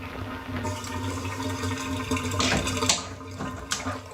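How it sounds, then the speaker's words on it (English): Water drains out during apartment maintenance work, a close gurgling and rushing flow with a low steady hum underneath and a few sharper splashes. "I'm starting to drain already. Just let that water go down some."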